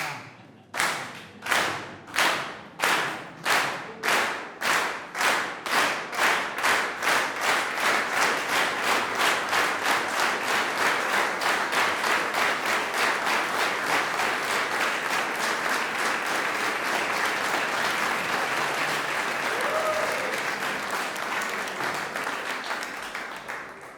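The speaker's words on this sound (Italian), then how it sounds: "bisogna applaudire in modo ritmato" A concert audience at a choral performance claps in unison, starting with separate slow beats and then speeding into a fast, steady rhythmic applause that carries on to the end.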